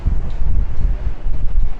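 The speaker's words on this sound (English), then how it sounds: "I hope it's working because the wind's blowing a lot right now. It's very windy." Strong wind buffets the microphone on an open cruise ship deck aboard the Carnival Celebration, a loud, continuous low roar with gusty surges and no voices.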